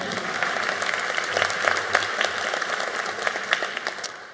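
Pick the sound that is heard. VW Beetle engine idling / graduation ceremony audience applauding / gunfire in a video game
graduation ceremony audience applauding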